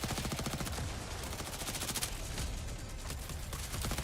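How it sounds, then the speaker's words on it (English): Rapid, dense gunfire from a shotgun in a video game, the shots packed tightly together in a steady, loud barrage that runs without a break. "Pull out the shotgun."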